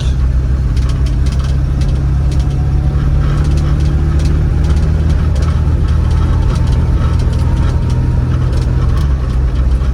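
An Opel Kadett C with an automatic gearbox driving along, its engine humming steadily and loud inside the cabin as it shifts up into third gear, a low constant drone with no clear rise or breaks.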